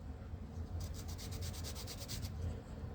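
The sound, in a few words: Rabid Models edge sander sanding inner corner of balsa wood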